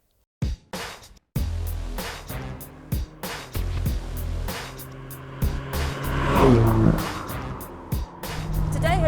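A 2014 Alfa Romeo 4C with a Giulietta-derived turbocharged four-cylinder engine starts, then revs and accelerates hard, its loud engine note climbing through gear changes with brief lifts and a rising roar toward the end.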